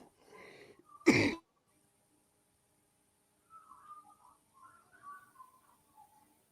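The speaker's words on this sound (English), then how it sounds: "Excuse me while I just cough for a minute." A single sharp, close cough bursts out once, then the room falls nearly quiet apart from a few faint high chirps.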